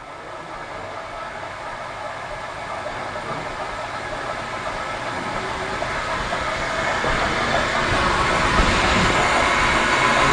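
An ST-270 SRD machine head is winding down, giving a steady, broadband mechanical whirr and rush. The sound is close and continuous and grows gradually louder over its length, with no voices.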